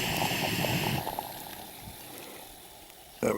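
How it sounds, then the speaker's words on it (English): A Jetboil camping stove on a hillside walk, with a steady hiss and bubbling of water coming to the boil. The sound is loud and close, then thins and fades before a brief bump at the end. "we've got the jet boil steaming away"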